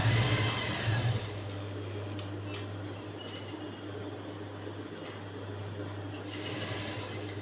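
An electric sewing machine hums steadily while stitching a blouse sleeve, a loud buzzing whir at the start that settles into continuous running, close by.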